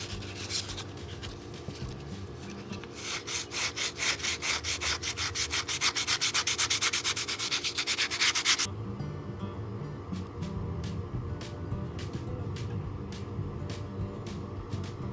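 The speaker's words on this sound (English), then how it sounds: "I decided it's time to kind of smooth it out a little bit. Sandpaper's great for this portion." Sandpaper rubs back and forth across the bevel of a wooden Bowie knife in quick rhythmic strokes, close and steady, faster and denser at first, then slower, spaced strokes.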